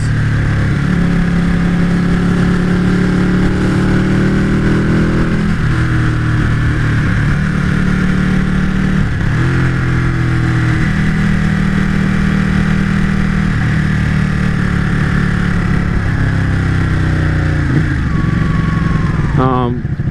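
A Ducati 899 Panigale engine with stock exhaust idles and revs steadily throughout, with a deep exhaust rumble and pitch shifts as the throttle is blipped, loud and close.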